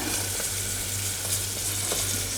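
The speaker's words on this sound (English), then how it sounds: "Now I am adding the" Hot oil with curry leaves, ginger and red chilies for a quick sambhar hisses in a dense, steady sizzle that fills the short moment, close and unbroken with no talking.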